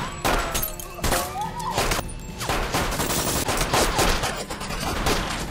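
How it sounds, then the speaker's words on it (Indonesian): Loud, continuous gunfire fills a film shootout, with sharp repeated shots and crashing impacts layered over a dense, chaotic background. "Baku tembak terjadi."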